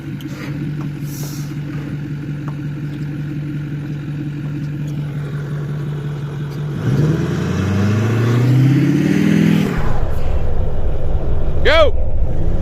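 An old tractor engine running steadily at a low idle, then revving harder and straining as someone tries to drive it, close and loud, with voices speaking over it.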